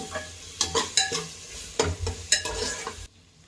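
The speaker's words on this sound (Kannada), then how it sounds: "ಸ್ವಲ್ಪ ಗರಂ ಮಸಾಲ ಹಾಕಿ ಚೆನ್ನಾಗಿ ಫ್ರೈ ಮಾಡ್ತಾ ಇದ್ದೀನಿ" Onion and tomato fried with turmeric and homemade garam masala, stirred in a pan: rhythmic scraping strokes of a spoon over a crackling sizzle, close and clear, stopping abruptly near the end.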